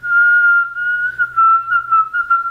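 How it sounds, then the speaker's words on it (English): A person whistles a wavering single tone, clear and close, in short phrases with brief breaks and slight pitch slides, with no speech. "I can whistle in and out."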